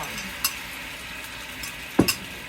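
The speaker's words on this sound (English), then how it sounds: "Now we are to add those ingredients to our skillet and let the tomatoes get warm" Tomatoes, olives and vinaigrette hitting chicken in a hot skillet, a faint steady sizzle with a couple of soft utensil stirs and a sharper clink near the end.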